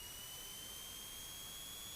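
Twin piston engines of a Beechcraft Baron run up on an 8,000-foot runway before takeoff, a steady droning hum with a high constant whine layered on top, held at an even pitch.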